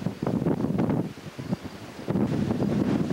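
Strong gusts of wind buffet the microphone in loud, rumbling bursts that ease briefly before surging again, on a mountain ridge.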